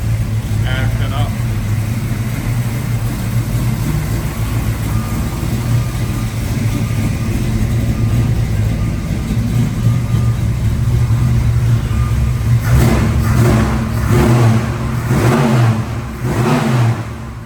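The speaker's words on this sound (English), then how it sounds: "Throaty. Good running sounding motor." A 1972 Dodge Challenger engine runs loud and steady, with a deep, throaty idle, then rises into several sharp revs toward the end. Speech is faintly present under the engine.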